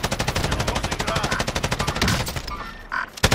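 Rapid automatic gunfire from Call of Duty: Modern Warfare rattles in a fast, even stream of close, loud shots, breaking off briefly near the end before a final burst, with a voice faintly present.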